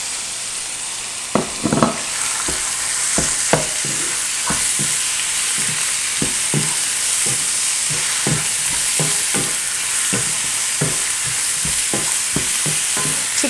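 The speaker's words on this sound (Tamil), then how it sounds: "சிக்கனும் அந்த மசாலாவையும் நல்லா மிக்ஸ் பண்ணுறாங்க" Chicken coated in masala fries loudly in a pan under a constant sizzle, with repeated scraping stirs of a spoon at irregular intervals and no talking.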